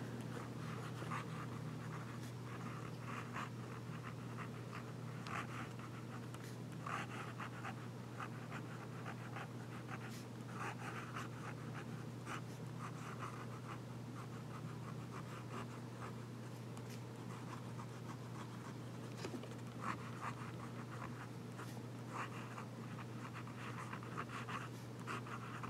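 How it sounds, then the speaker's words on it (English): A fountain pen writing on paper, with faint scratchy strokes and small ticks scattered through a quiet stretch over a steady low hum, no one speaking. "And we'll do some writing."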